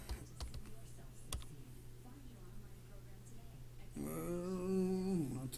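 Sparse keyboard typing sounds on a computer keyboard, faint clicks in the quiet background, followed by a tonal voice-like sound near the end.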